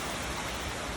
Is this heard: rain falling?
yes